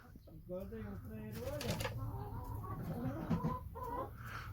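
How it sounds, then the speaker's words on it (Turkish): Chickens cluck and a rooster calls nearby on a free-range chicken farm during egg collecting, with a person talking in Turkish over the birds throughout. "Orada bir tane tavuk bir tane horoz var ya."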